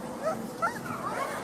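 A puppy whimpering and yipping nearby, a few short high-pitched whines and yips in quick succession over soft background noise.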